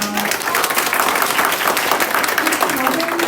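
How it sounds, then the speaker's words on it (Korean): Audience applause after a lecture in Busan, a dense steady clapping from a seated crowd that runs loud and unbroken throughout. "한 번 더 큰 박수 부탁드립니다."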